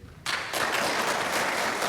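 Audience applause bursts in suddenly after a brief quiet moment at a Democratic primary debate, then holds as a dense, steady clapping from a crowd.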